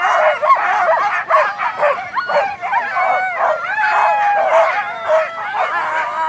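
Excited sled dogs barking, yipping and whining at the start of a sled dog race on the Plateau de Retord in winter; a dense, continuous chorus of overlapping barks and howls from many dogs close by.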